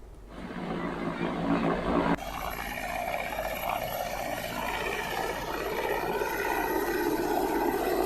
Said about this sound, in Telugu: హెలికాప్టర్, డ్రోన్స్ ద్వారా కర్రెగుట్టను బలగాలు జల్లెడ పడుతున్నాయి.